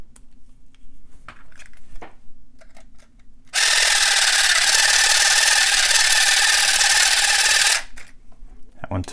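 An electric pick gun converted from a pumpkin saw buzzes loudly for about four seconds while picking a lock, preceded and followed by quieter handling clicks and rustling.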